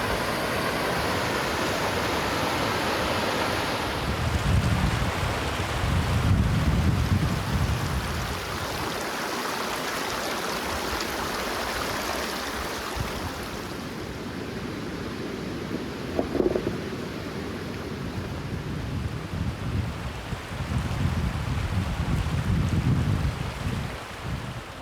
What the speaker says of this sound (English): Thought I was hearing wind, but got ourselves a little waterfall here.